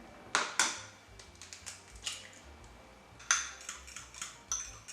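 Whisking one egg into sour cream in a bowl for shortbread cookie dough made with lard, heard as sharp clinks and scrapes of a utensil against the bowl, several quick strikes spaced through the passage, close and clear with no talk.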